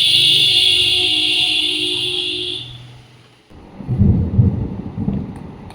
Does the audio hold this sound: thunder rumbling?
yes